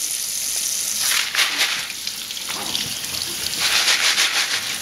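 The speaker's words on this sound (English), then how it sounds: "I'm gonna give them another rinse." Cold water rinses over hydroponic net pots and growing media after a hydrogen peroxide soak, a steady close hiss of spray and splashing that swells in bursts and continues throughout.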